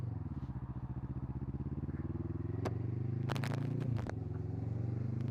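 A motorbike engine running while being ridden, a steady close pulsing drone that rises slightly in pitch midway, with a few brief clattering knocks near the end.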